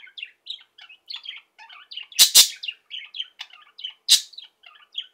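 Pet parakeets chirp and twitter in quick, busy bursts, close and fairly loud, with a few sharp louder calls; no talking.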